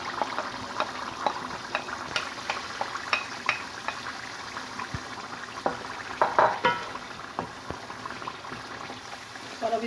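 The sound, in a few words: ground tomatoes added to fried yogurt, sizzling and stirred in pan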